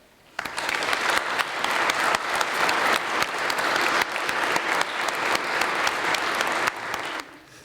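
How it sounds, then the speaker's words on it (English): A big audience at a fallen officers memorial breaks into sustained, steady applause for a choir that keeps going for several seconds and then cuts off. "can we give a big round of applause for the Western Choir?"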